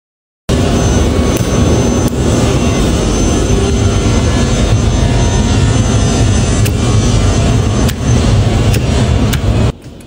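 A woodworking machine, repaired after sawdust clogged its switch contacts, starts abruptly and runs with a loud, steady, dense roar, a few clicks over the drone, before shutting down near the end.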